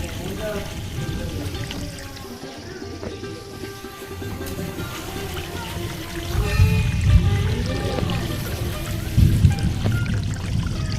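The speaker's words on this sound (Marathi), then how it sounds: "पाण्याचा वाहता झरा, त्याचा खळखळ आवाज" A babbling spring-fed stream runs down from the hill at the Pokharbav Ganesha temple in Devgad, giving a steady, continuous gurgle and rush of water close by that swells louder in the second half.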